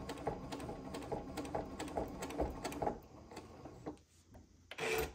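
A sewing machine stitches a quilt top in a steady, quick, ticking rhythm at close range, then slows and stops before a brief final burst.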